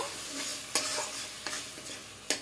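A fish curry mixture for yogurt catla is stirred in a pan, giving a steady close sizzle with three sharp utensil scrapes against the pan, spaced apart.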